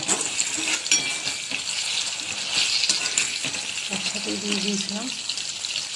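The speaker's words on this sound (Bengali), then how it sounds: "প্রথমে কুমড়ো আর আলুটা ভেজে নিয়েছি, একসাথেই দিয়ে দিয়েছিলাম" Pumpkin and potato pieces frying together in a pan give a steady broadband sizzle throughout, with occasional stirring clatter and faint voices in the background.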